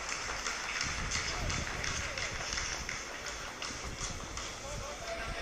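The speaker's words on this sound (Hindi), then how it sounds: "आप इस तालियों के गड़गड़ाहट को सुन सकते हैं जो कि सेकेंड हाइब्रिड फेज के कंप्लीट" Scientists at ISRO mission control applaud after the Chandrayaan-3 lander completes a descent phase, producing a dense, steady clatter of many hands clapping at once that lasts throughout, with voices mixed in.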